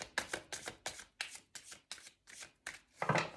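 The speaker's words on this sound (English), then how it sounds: "we're going to do one last shuffle" Tarot cards being shuffled in quick repeated riffles, about a dozen crisp bursts in steady rhythm, close and clear.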